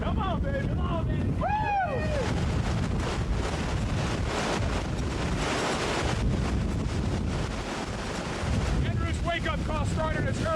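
Strong hurricane wind gusts from Hurricane Andrew roar steadily over Miami Beach, a loud continuous buffeting rush with bursts of surging noise throughout, and voices shouting faintly under the din.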